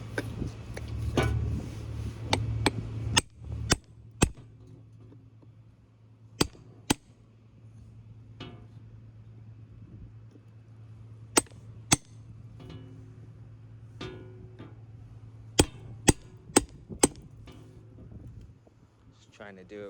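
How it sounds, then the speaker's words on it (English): A hammer driving a chisel against a forklift battery casing, sharp isolated metallic strikes scattered irregularly, some in quick bursts, over a low steady hum with a person talking at times. "Use the chisel and a hammer, try to snap these pieces."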